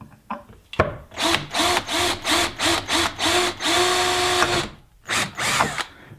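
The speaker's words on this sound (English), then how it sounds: "By drilling holes through the spots I want." A power drill whirs in a series of short bursts while drilling holes in an outdoor security flood light wall pack, about eight quick pulses followed by a longer run and two more, loud and close.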